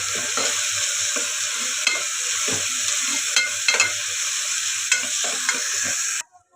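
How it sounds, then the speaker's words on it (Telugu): Ginger garlic paste frying with onions in a pan, a steady loud sizzle broken by frequent stirring scrapes and clinks for about six seconds before cutting off abruptly. "ఇప్పుడు మంచిగా పచ్చివాసన పోయేదాకా ఫ్రై చేసుకున్నాం"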